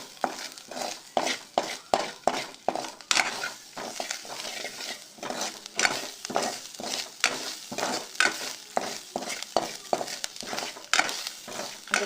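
Grated coconut frying in oil in a pan for Mysore rasam, with steady sizzling and repeated stirring scrapes in an irregular rhythm, close and moderately loud, no talking.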